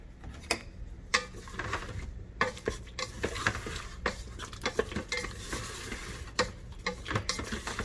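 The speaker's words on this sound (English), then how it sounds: "give it a stir" Maple-glazed carrots are stirred in a hot pan, a utensil scraping and clicking against the metal in scattered knocks over a faint steady sizzle, with no voices.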